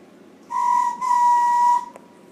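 A steam engine whistle gives two loud, clear blasts in quick succession, the second held longer than the first.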